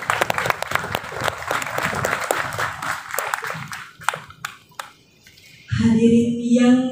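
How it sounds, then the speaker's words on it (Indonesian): Applause from an audience at a Balinese dance performance in a museum, dense clapping for about four seconds that thins into scattered claps and fades, then a voice speaks over a loud background at the end. "Tepuk tangan yang meriah"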